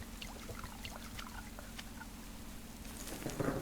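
Water pours from a pot in a quiet outdoor setting, first a faint trickle and dribble, then a louder gush near the end over a low steady hum.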